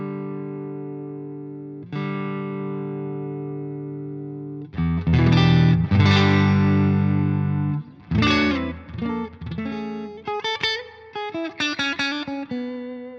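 Electric guitar played through an amp with reverb: sustained chords ring out, then a run of strummed chords and picked notes, each trailing into a wash of echo.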